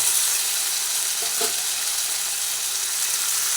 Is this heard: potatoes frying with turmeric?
yes